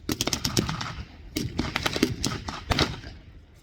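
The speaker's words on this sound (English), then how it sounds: "They've got a half-track in position there, mounting a heavy machine gun, MG32, MG38." Heavy machine gun fire from a German half-track at a WWII Tiger 131 capture reenactment in Bovington: rapid bursts of loud, sharp shots in several clusters, fairly close, with no voices.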